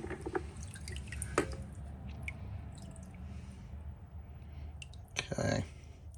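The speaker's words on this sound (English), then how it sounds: "Okay, I'll leave those in there to drip off a little bit." Vinegar drips off rusty bolts in a garage, faint scattered drips and small clicks against a low background hum, ending in a short wet splashing burst.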